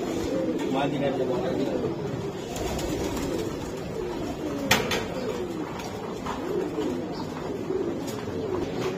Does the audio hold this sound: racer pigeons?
yes